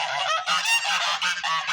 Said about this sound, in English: Yeah, the geese are after him.